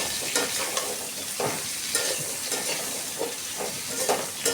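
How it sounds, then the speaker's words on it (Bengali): Shola taro and potatoes frying in a pan, a dense, continuous close sizzle and hiss broken by regular scraping stir strokes. "কচু আর আলুটাকে ভালো করে ভেজে নিব।"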